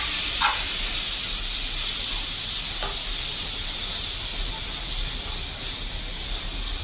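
Grated beetroot is stirred into hot coconut oil in a pan. A steady, close hiss of frying runs throughout, with a couple of faint scrapes from stirring and no speech.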